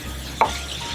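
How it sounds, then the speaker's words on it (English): A short scraping stir through chopped tomatoes, onions and garlic in a pan for a zucchini spaghetti lemon tomato sauce: a single brief swipe against a steady low background hum. "Give this a good stir."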